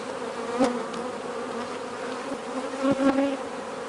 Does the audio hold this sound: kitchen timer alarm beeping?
no